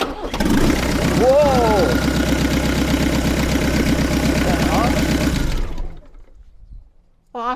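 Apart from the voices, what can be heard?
2.5 VM diesel engine starting in a Range Rover Classic, exhaust unconnected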